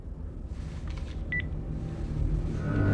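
A telephone dialed to call 911 during a tense horror-thriller scene, heard as a few short electronic tone beeps over a low rumbling background.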